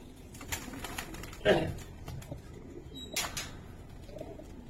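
Pigeons coo in soft low phrases from close by, with a louder burst near the start and another toward the end, over a busy outdoor background and occasional faint chirps.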